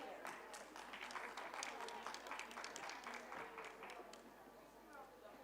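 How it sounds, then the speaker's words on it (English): A plenary-session audience claps to welcome a speaker onto the stage: steady, dense applause from a large room that fills the whole stretch, with voices murmuring faintly underneath. "Let's have a warm round of applause."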